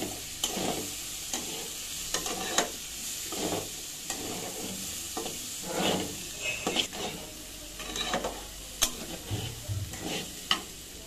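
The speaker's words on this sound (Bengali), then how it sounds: "এ পর্যায়ে আমি হলুদটা অ্যাড করে দিলাম, দিয়ে এখন সুন্দর করে নেড়ে চেড়ে নিচ্ছি।" Lentils fry with turmeric in a pan as a spoon stirs them in irregular scraping strokes over a soft continuous sizzle, close by and fairly quiet, with no voices.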